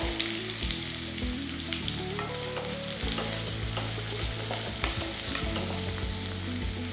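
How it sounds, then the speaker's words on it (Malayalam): Two sliced onions fry in hot oil for erachi choru, a steady close sizzle with scattered crackles and pops throughout, accompanied by a faint sustained tonal hum. "എണ്ണ നന്നായിട്ട് ചൂടായി ഇതിലേക്ക് 2 സവോള സ്ലൈസ് ചെയ്തത്"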